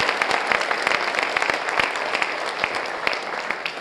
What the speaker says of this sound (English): So let's give them all a round of applause for all of our hard work.